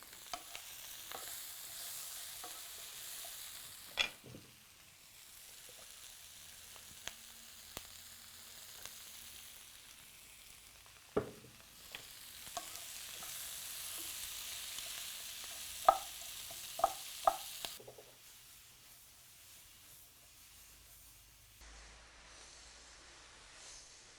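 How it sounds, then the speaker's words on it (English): Onions and peppers sizzle quietly in a pan for a quick sausage and peppers dinner. A low, even frying hiss runs throughout, broken by scattered clicks and scrapes of stirring, with no talking. "Now we're going to let this cook until the onions begin to caramelize around the edges, the peppers get nice and soft and golden brown on the edges"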